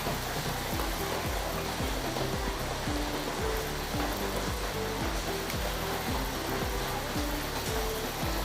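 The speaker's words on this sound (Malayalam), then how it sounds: "എണ്ണ ചൂടായി ഇനി സ്പൂണും കൊണ്ട് നമുക്ക് കോരി ഒഴിക്കാം" Steady, loud sizzle of appam batter spooned into hot oil, a continuous crackling hiss with rhythmic music playing underneath.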